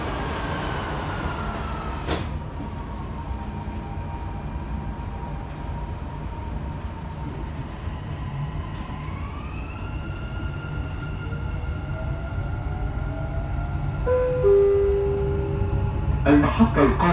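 A Dubai Metro train running between stations from Mashreq toward Jabal Ali, a steady low rumble and rolling hum inside the carriage with rising and falling motor whine, and louder clatter toward the end.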